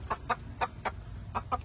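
A small desi tree-dwelling rooster from a tribal village clucks up close, about seven sharp, irregular bursts over a low background rumble.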